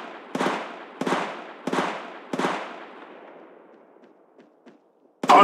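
Four evenly spaced, punchy single gunshots from Apex Legends Mobile, each with a lingering tail, then faint clicks and a final loud shot.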